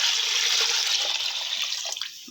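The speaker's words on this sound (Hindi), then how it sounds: "इसके अंदर पानी डाल देंगे" Water pours in a steady rushing stream into a pot of fried chicken pieces, a bright, continuous splash that softens slightly toward the end, with no talking.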